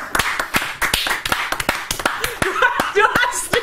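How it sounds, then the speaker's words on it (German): Clapping from a small group, sparse and uneven claps with some laughter mixed in toward the end. "Einen herzlichen Applaus!"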